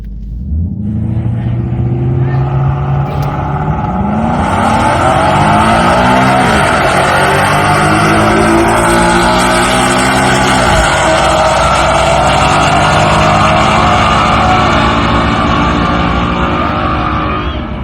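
Loud, close roar of a 2015 Ford Mustang with a 6R80 automatic and modified exhaust launching down a drag strip on a cool night, revs climbing and dropping through repeated upshifts, with engine noise sustained and no talking.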